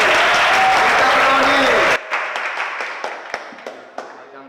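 Audience applause, a dense burst of clapping that cuts off abruptly, followed by a few scattered individual claps fading out.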